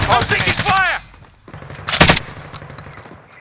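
Gunfire in Call of Duty: Modern Warfare: a rapid burst of shots opens, then a single loud blast follows about a second later amid game sound effects.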